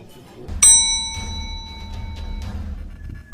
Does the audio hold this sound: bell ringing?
yes